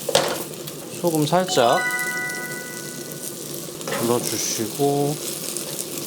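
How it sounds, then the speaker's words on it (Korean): Starch-coated eggplant stir-frying in a little oil in a pan, a steady sizzle running throughout with someone speaking over it in bursts. "자, 우리가 준비했던 가지를 볶아줍니다"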